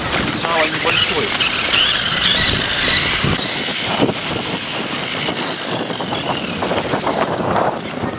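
A radio-controlled stunt car drives at speed toward a ramp, its small electric motor whining and rising in pitch over rolling and scraping noise, heard close under a man's speech.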